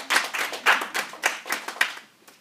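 Church congregation clapping hands in praise during a service: a run of sharp, fairly close bursts of handclaps with small pauses between them, tapering off toward the end, no talk over it.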